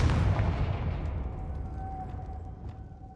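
Confringo fire-blast spell cast in the Hogwarts Legacy video game: a loud, booming burst at the start that rolls off into a fading rumble with a faint lingering tone, no talk.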